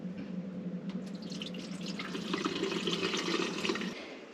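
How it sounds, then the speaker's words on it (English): A cup of vinegar is poured into a Splendide washer/dryer, giving a steady close splashing, trickling stream of liquid that runs for several seconds and swells slightly toward the end. "Now I'm gonna add a cup of vinegar."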